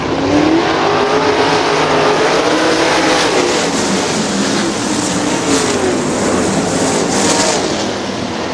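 410 sprint cars race on a dirt track at Butler Battlegrounds in Quincy, Michigan, their engines roaring loud and steady with rising and falling pitch as the pack passes close by.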